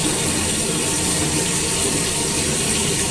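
Tap water pours steadily into a cooking pot in a home kitchen, a loud continuous rushing and splashing with no pause and no voices.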